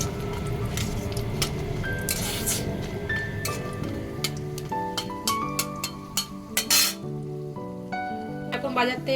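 Black cumin seeds tempering in hot oil in a Bengali village kitchen, with a close sizzle and sharp scattered pops and crackles over melodic tones in the background.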